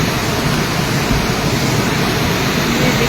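Heavy, steady rain pours down in the Thunag market area of Mandi during a flood, with a loud, dense, unbroken rush of swollen floodwater roaring close by throughout.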